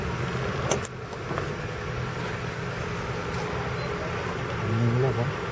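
A safari vehicle's engine hums steadily while it drives through Tadoba Andhari tiger reserve near the Agarzari buffer gate, a continuous close rumble with people talking over it.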